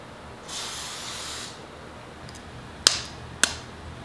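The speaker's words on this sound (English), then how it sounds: "take a ramekin and spray it with some cooking spray" A one-second hissing burst of cooking spray into a ramekin, followed by two sharp, brief clicks or taps nearby; no one speaks.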